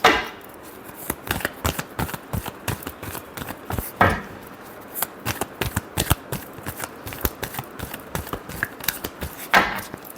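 Tarot cards being shuffled by hand, a rapid run of crisp riffling flicks and slaps, close and dry, with heavier bursts at intervals.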